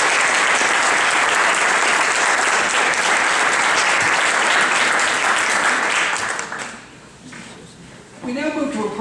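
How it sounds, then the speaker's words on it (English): Loud, sustained audience applause fills a graduate awards ceremony hall, a dense wash of clapping that fades out near the end before a voice begins speaking. "So let's give those folks a round of applause."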